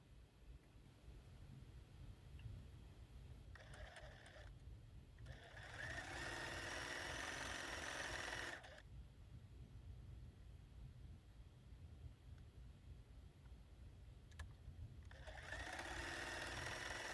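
A sewing machine joins quilt block pieces with black thread in two separate runs, each a steady, fairly quiet whir lasting a couple of seconds, with a faint hum between them.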